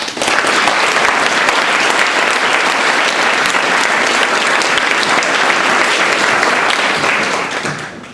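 Sustained round of applause from a graduation ceremony audience, thick and continuous clapping from many people that holds steady before tapering off at the end.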